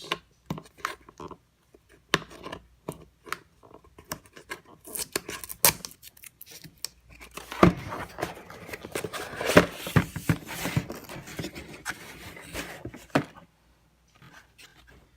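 Tape peeled and scraped off a Google AIY Vision Kit cardboard box, a series of sharp crackles and tearing rasps, sparse at first and then a longer burst of ripping midway, close and fairly quiet.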